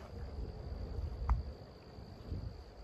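Crickets chirp outdoors on an autumn evening in Toronto, a faint, steady high-pitched trill carrying over a low background rumble, with no voices.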